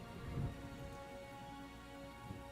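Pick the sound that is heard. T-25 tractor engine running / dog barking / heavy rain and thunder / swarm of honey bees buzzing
heavy rain and thunder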